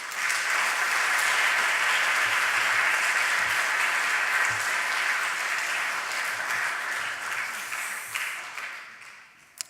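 A church congregation breaks into sustained, dense applause to welcome a preacher, holding steady for several seconds before tapering off at the end.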